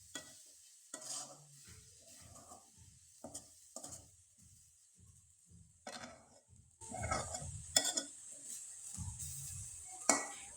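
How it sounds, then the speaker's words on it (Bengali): A spoon stirs grated coconut filling for muri pitha in a pan, with soft, intermittent scraping strokes and faint sizzling in a quiet kitchen. "নারকেল কোড়ানোটা দিয়ে খুব ভালোভাবে নেড়ে চেড়ে একবারে শুকনো শুকনো করে পুরটা আমি তৈরি করে নেব"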